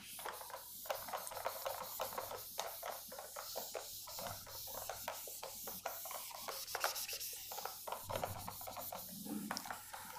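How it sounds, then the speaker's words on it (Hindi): Writing is rubbed out on a classroom board, steady close scrubbing strokes that come in quick repeated bursts, with no talk. "मैं इसको रब करता हूँ।"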